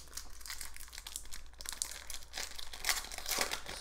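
Crinkling and tearing of a foil Upper Deck hockey card pack wrapper being opened from a retail tin, with steady rustling that swells into sharper crackles near the end, close and fairly quiet.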